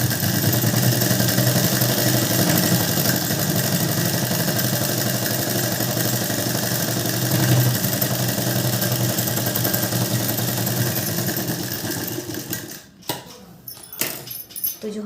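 A sewing machine runs steadily as it double-stitches lace onto a blouse, its motor whirring and buzzing loudly without pause for about twelve seconds before cutting off, leaving a few faint clatters.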